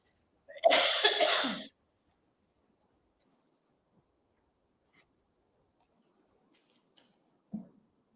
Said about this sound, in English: excuse my beautiful cough there